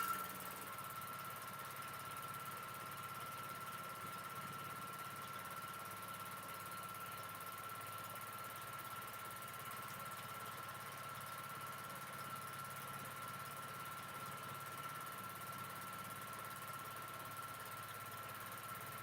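A sewing machine runs continuously during free-motion quilting, giving a faint, steady mechanical hum and vibration with no pauses and no talking.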